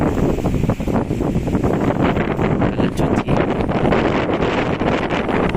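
Strong, steady storm wind in Quezon Province roars and buffets the microphone throughout, a dense, continuous rush with gusty swells and no clear pauses.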